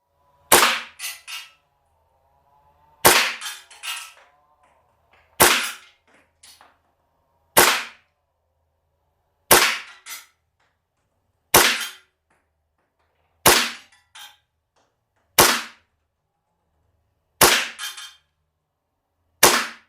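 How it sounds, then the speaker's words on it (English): A WE 1911 gas blowback airsoft pistol fires about ten sharp, loud cracks at steady intervals of roughly two seconds, some shots followed by a faint rattle, with silence between. "I'm going to shoot a little bit low just because I'm thinking this gun's shooting high"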